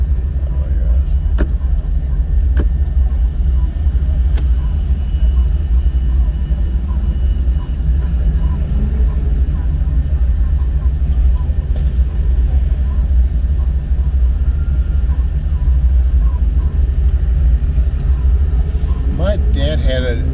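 Classic cars cruising past at the Dream Cruise, including Ford Torino, Galaxie and Mustang models, a continuous low engine rumble of passing traffic with a brief air-brake hiss near the end and people talking over it.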